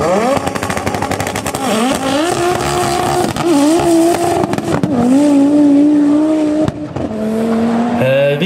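Race car at full throttle around 300 km/h on an airport circuit, a loud, close engine howl holding high revs with a few brief gear-shift dips and rising pitch sweeps, continuous throughout.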